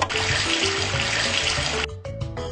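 Water gushes from a kitchen tap into a sink while apples are washed in a children's cartoon game, a loud steady rush that cuts off abruptly near the end, followed by a few light tinkling effects.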